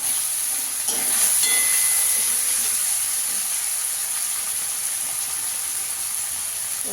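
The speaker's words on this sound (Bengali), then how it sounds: "ভালো করে আদা কাঁচা লঙ্কাটা ভালো করে কষিয়ে নেব।" Ginger, green chili and tomato sautéing in a pan, a steady close hiss of steam and sizzle with a brief stir or clatter early on, then settling to an even frying wash.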